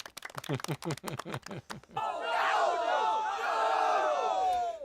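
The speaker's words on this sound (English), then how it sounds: "You guys booing Winbeg's mom and dad?" A live audience in a studio show roars and jeers in a sustained crowd noise lasting a few seconds, loud and continuous, right after a burst of someone speaking.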